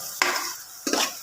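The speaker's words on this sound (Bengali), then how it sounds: "আরও একটু কষাবো" Meat masala with ginger, garlic, nuts, coconut oil, chili, cumin, turmeric and coriander powders is stirred in a pan, two short scraping strokes over a soft sizzle.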